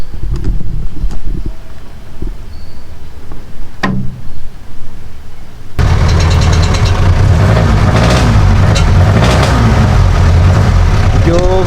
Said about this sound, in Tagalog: Medyo maingay mga kabosing ang tambutso nito naka open pipe.